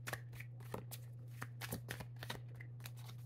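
Tarot cards being shuffled by hand in a quiet room, a steady run of soft papery riffles and flicks, close and fairly faint, with no talking.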